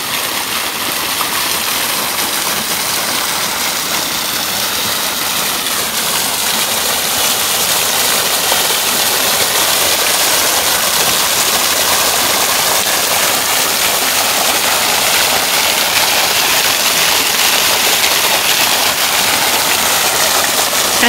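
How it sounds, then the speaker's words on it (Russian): Waterfalls in a snowy winter setting pour out a dense, steady broadband rush of water, loud and continuous throughout with no voices. "Вот они, водопады."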